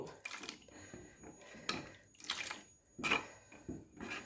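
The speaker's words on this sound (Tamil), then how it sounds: "இன்னும் கொஞ்சம் தண்ணி ஊற்றிட்டு இதை மூடி வச்சிடலாம்" Water splashes into a pot of drumstick leaf curry in several quiet, uneven bursts, faint and near, with small drips and kitchen clinks between them.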